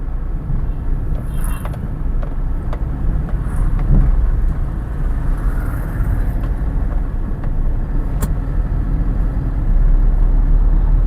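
A diesel Maruti Swift Dzire rolls along on a test drive, its steady low engine and road rumble filling the cabin evenly from start to finish, with no talk.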